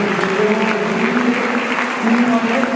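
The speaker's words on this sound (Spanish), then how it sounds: "Lo recibimos con un fuerte aplauso a estos muchachos que hoy se presenta" Audience applause for graduating students of the 2015–2018 class at a Mass of thanksgiving, steady and dense for nearly three seconds, with sustained musical tones or voices running beneath the clapping.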